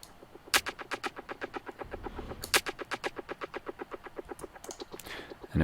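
A clap sample runs through the JST Soar tape delay plugin, with sharp repeated hits that trail into quick, dense echo repeats under a pulsing beat, moderately quiet and close.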